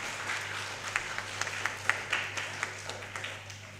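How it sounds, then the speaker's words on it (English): An audience at a children's book release event claps for the children, a thin, modest patter of hand claps at moderate distance, continuing steadily without voices. "Can I get an applause for our dear children?"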